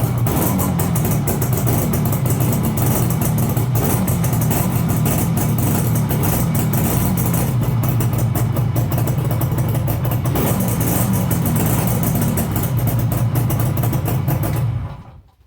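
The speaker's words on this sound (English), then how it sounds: "I'll start it up again, get it warmed up properly, and I'll check it over more thoroughly, make sure it's idling properly" A 42-year-old Suzuki 200 two-stroke twin motorcycle, long abandoned, idles steadily and close by, its engine a continuous loud burble that holds without revving for most of the time before cutting off abruptly at the end.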